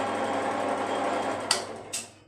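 A metal lathe spins at a slow 160 rpm, giving a steady, even mechanical hum throughout, with two sharp clicks close together near the end.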